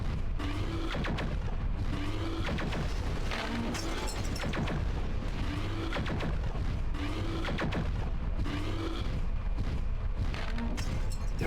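MechWarrior 4 combat with heavy weapon fire, repeated booming shots in a steady rhythm over a constant low mechanical rumble, loud and dense throughout.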